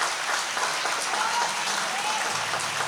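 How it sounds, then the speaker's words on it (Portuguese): A church congregation claps together in a steady, fairly soft burst of applause at a Portuguese-language service, the dense clapping continuing evenly throughout. "Quantos pode aplaudir os céus"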